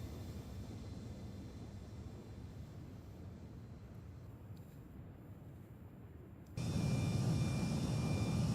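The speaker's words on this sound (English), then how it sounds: "the cockpit sounds are recorded from the real aircraft" Embraer E170 jet engines in the X-Plane 12 flight simulator, recorded from the real aircraft, a steady low roar with a faint high whine that steps up to a louder, fuller rumble near the end.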